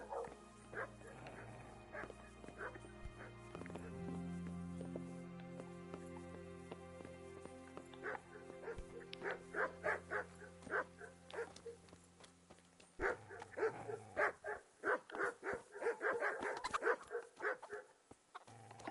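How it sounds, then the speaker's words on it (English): Dogs bark repeatedly in bursts in the video game Kingdom Come: Deliverance, with yips and whimpers, over a steady low background hum; the barking grows busier toward the end. "usually he comes out when he hears the dogs barking"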